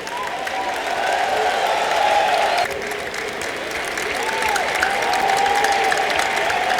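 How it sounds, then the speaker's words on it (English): Sustained applause from an audience in a university auditorium during an inaugural lecture, steady and fairly loud throughout, with a faint tonal hum running beneath the clapping. "Another round of applause,"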